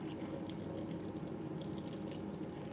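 Liquid from an opened can of tuna drains into a sink in a steady, close trickling pour that runs unbroken throughout, no one speaking.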